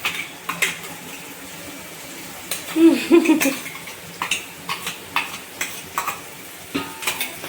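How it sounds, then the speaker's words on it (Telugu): Tomato puree and masala frying in a pot for a paneer biryani, with a ladle scraping and knocking against the metal in a steady stirring rhythm over a soft sizzle, close and fairly loud. "రెండు వేసానండి నేను టమాటాలు చూసారా మళ్ళీ వేయించుకోవాలి బాగా"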